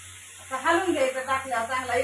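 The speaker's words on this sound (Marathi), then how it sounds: "त्यात आता चिकन टाकून घेते मसाले चांगले परतलेत" Chicken sizzles with masala in a pan, a close, crackling fry hiss running continuously while a voice talks over it.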